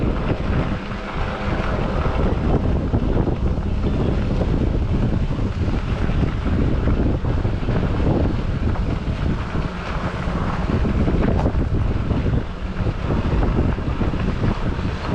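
Strong wind on a forest path buffets the microphone continuously in light rain, a loud rumbling roar with gusty fluctuations and no voices.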